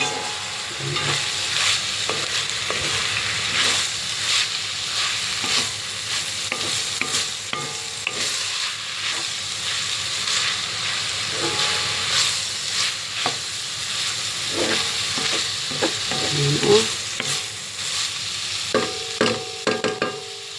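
A spoon stirs spaghetti bolognese sauce with beef and sausage in a sizzling pan, repeated scraping and clattering strokes over a constant frying hiss, close and fairly loud.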